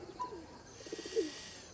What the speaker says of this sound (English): That's gotta be your typical pigeon.